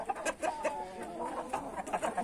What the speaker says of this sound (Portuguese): Umas galinhas botando.